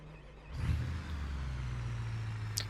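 A supercharged mud truck engine in BeamNG cranks and catches, then settles into a steady low, rumbling idle that holds close and even to the end.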